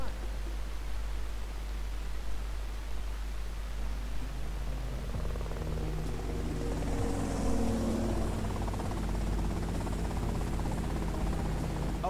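A helicopter in GTA Vice City drones steadily through the whole stretch as a constant low whir, with a rising rotor hum joining partway through and staying loud to the end.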